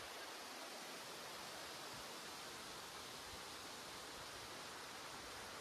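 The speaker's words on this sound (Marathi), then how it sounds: "खाली पाणी वाहत आहे आणि दरी आहे खालीची" Water rushes through the Kundalika valley below the Andharban forest, a steady broadband roar like a distant stream or waterfall that holds even and unbroken throughout, with no voices.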